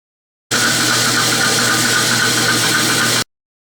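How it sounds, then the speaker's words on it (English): A milling machine mills a metal blank down toward layout lines, giving a loud, steady mechanical whir with a fine rattling, ratchet-like texture that runs evenly for nearly three seconds, then cuts off sharply. "And now I'm milling it down to the layout lines, the basic blank size."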